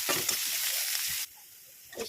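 Garlic and onion fry in hot oil for a leafy greens stir-fry, giving a loud crackling sizzle that cuts off abruptly partway through, followed by quieter faint noise.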